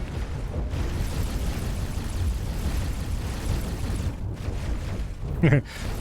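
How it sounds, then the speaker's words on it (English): Explosion in the X4 space video game, a dense continuous rumbling roar that fills the clip, with a brief sharper burst near the end and faint voice underneath. "Explosion imminent."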